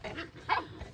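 Dogs bark in short sharp yips indoors in a house during Land Rover Discovery 2 heater pipe work, a couple of quick barks within a second, moderately faint.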